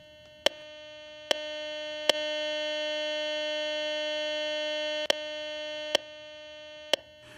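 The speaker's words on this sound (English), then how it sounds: "That's the audible sound produced by your detector when no metal is being detected." Steady electronic threshold hum from a Garrett GTP 1350 metal detector, a continuous buzzy tone with harmonics, interrupted by several short clicks as settings are adjusted, clear and close with no other sounds.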